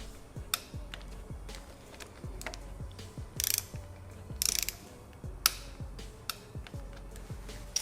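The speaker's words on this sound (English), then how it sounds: "Now we can torque these down." Ratcheting torque wrench tightening bolts while fitting ProTaper handlebars on a Yamaha MT-09 / FZ-09 motorcycle: a run of close mechanical ratchet clicks and ticks in irregular bursts, with a few sharper metallic clacks, no talking.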